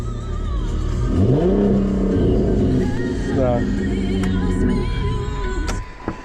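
A car engine revs hard at an outdoor used-car lot, rising in pitch through several loud throttle blips and sustained high revs, then settling back toward idle, with a voice faintly beneath.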